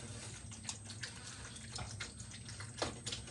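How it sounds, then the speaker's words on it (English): Macaroni stirred in a pot: faint, close, wet squelching and soft sloshing with small irregular scrapes, quiet throughout. "It's macaroni in a pot. I'm stirring it up."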